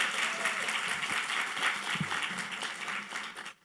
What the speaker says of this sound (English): We should all give her a big round of applause